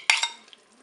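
A spoon stirs crème fraîche with a spoonful of mustard in a Cookeo pot. It is a brief, close, wet scrape that fades quickly into quiet.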